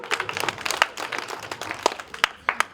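Applause at a folk theatre educational workshop, a crowd clapping steadily for a performer, with sharp individual claps standing out near the microphone throughout.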